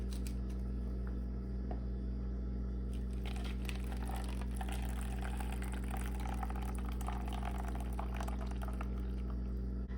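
Reserved noodle water from a chili cheese ramen pot pours steadily back into the pot, a continuous watery splashing and trickling over a low background hum, growing busier midway.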